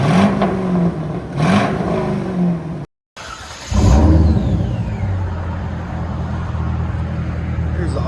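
A 1999 Chevy Corvette with a 5.7L V8, H-pipe delete and Borla ATAK exhaust revs a couple of times, cuts out briefly, then settles into a steady, rumbling idle close by.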